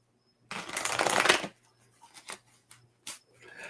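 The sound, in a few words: shuffling cards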